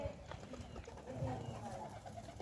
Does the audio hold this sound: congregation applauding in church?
no